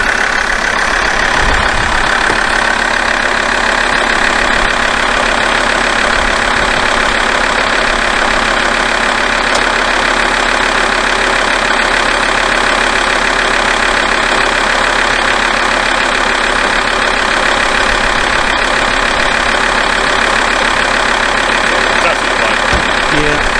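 An Alfa Romeo 159 engine idles while warming up to temperature, giving a steady, close, continuous mechanical drone with a faint rattle throughout, unchanged for over twenty seconds.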